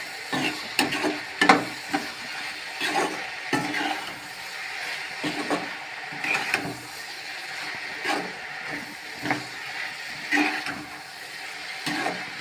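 Steady sizzling of salted tomatoes frying in a pan, with intermittent scraping and stirring clicks throughout; no voices.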